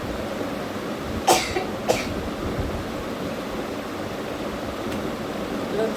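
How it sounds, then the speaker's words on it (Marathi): A woman coughs twice in quick succession after eating pickle, two short sharp bursts close together, heard over a steady wash of background noise with nothing else prominent. "लोणचं खाल्लं का असं होतं, मला खोकला येतो"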